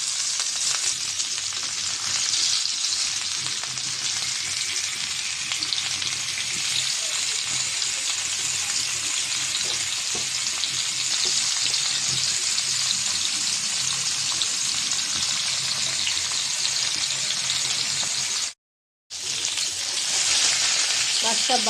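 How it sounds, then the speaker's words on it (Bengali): Mrigal fish, a rohu-type carp, fries in hot oil on a flat pan, giving a loud, continuous close-up hiss and crackle that holds steady for most of the time, broken by one brief drop to silence. "তাওয়াটা বসাই দিয়েছি, তেল দিয়ে দিয়েছি, গরম হয়ে গেছে। মাছটা দিয়ে দেবো এখন।"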